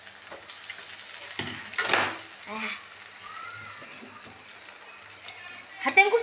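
Brinjal is stir-fried in a hot pan: a faint, low sizzle runs underneath while a few spatula scrapes and clinks stand out, with a busier burst of clatter at the very end.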